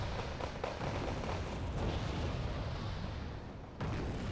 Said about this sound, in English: I'm going to start using some actual mortar rounds onto the Motor Strelki themselves